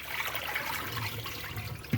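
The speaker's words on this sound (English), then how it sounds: "And then I just pour this out." Water pours from a bowl after washing Chinese cabbage, a continuous close splashing trickle that runs steadily with a small knock at the end.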